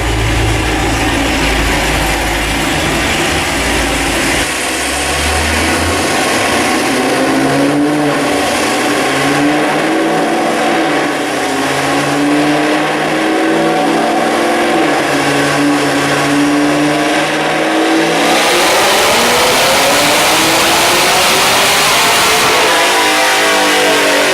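A Chevrolet Camaro ZL1 engine with a new short block, running E85, roars loud and close through a long sustained pull, its pitch sweeping up and down, then climbs steadily again toward the end.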